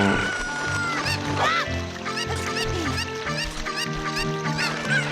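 Repeated short chicken clucks and squawks in Zelda: Ocarina of Time over a busy layer of game music and effects, with rising and falling calls throughout.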